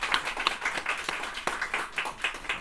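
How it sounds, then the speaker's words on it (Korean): A church congregation claps to welcome a young woman forward at a Sunday worship service, a lively patter of hand claps with distinct sharp peaks, fairly close and moderately loud, with no talking. "우리 박수로 환영하겠습니다"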